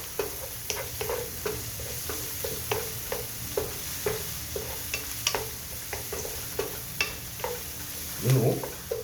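An egg omelette sizzles steadily in a frying pan while a utensil stirs and scrapes it in a regular rhythm of sharp clicks, with a low thump near the end.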